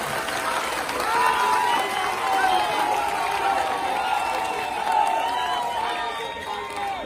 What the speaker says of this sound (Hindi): तो इनके नाम पे एक जोरदार तालियां आप बुलाइए